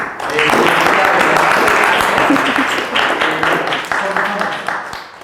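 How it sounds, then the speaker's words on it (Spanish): An audience gives a strong round of applause for a speaker at a talk on gender and climate change, loud and close, swelling in quickly and then tapering with some voices mixed in. "vamos a darle un fuerte aplauso a esta Amelia"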